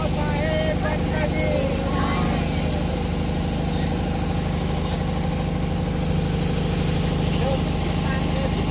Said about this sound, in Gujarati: ને અત્યારે ચાલુ થઈ ગઈ છે બોટ